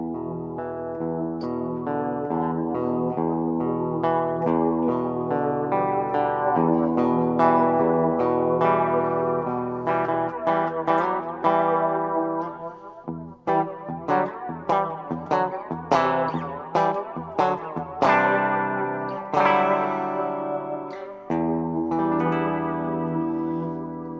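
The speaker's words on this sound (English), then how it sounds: "when I stop playing there, as it decays, it has a slow flange." Guitar played through an Electro-Harmonix Holy Grail reverb pedal in slow flange mode, picked notes and chords washing into sweeping, swirling reverb tails that linger as they decay, moderately loud with no talk.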